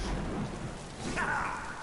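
Rain Dance ability in the Smite video game sets off a rolling rumble of thunder and a steady wash of rain, loud and continuous, with a brighter crackling surge midway.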